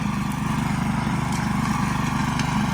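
A walk-behind Billy Goat brush mower drones steadily nearby, a rough, constant small-engine motor hum running without pause.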